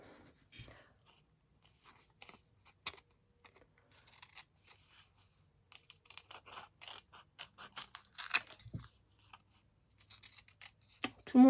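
Scissors snip paper in short, crisp bursts during scrapbooking, with sparse and irregular cuts close to the microphone, separated by quiet gaps and occasional soft handling noises.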